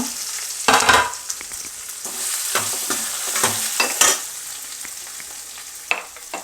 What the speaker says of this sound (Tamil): கடுகு கொஞ்சம் போட்டுக்கிட்டேன் வெங்காயம் கொஞ்சமாக பச்சை மிளகா